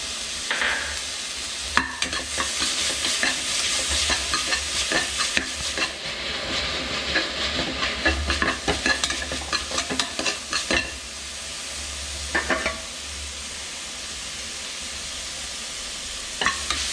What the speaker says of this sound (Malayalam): അതിലേക്ക് നമ്മുടെ ഇഞ്ചി വെളുത്തുള്ളി പേസ്റ്റ്